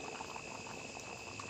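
Chole masala curry boils in a pan, giving a steady, close bubbling and simmering hiss that runs unbroken and carries no voices.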